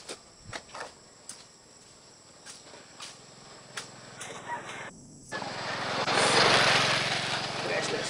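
A grass cutter mowing grass outdoors: scattered ticks and clicks lead into a loud, sustained whirring engine roar that swells in close and dominates the end, with faint talk earlier.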